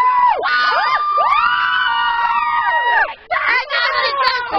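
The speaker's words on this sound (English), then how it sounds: "I got the intense crowd in this game!" Crowd cheering at a playful mock tic-tac-toe match, sounding like a few voices whooping and squealing with sweeping, rising and falling shrieks, loud and close, with a short dip before a final burst.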